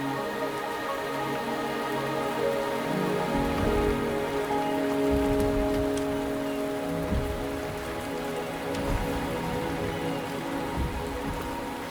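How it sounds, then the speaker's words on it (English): Steady rain falls in the video game Wuthering Waves, a constant wash of drops on surfaces under a low ambient musical drone, with no voices. "The rain is subsiding, and the sky will soon clear."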